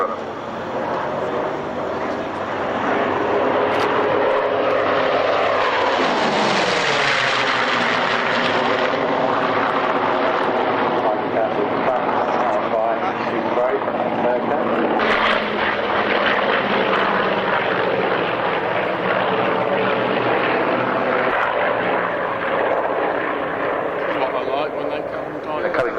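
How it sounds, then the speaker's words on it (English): Grumman Wildcat fighters fly past at the Duxford Flying Legends airshow in 1999, a loud rising and falling piston-engine roar that swells as the planes approach and fades as they pass, with an announcer speaking over it. "Leading the pair is the Grumman FF2 Wildcat."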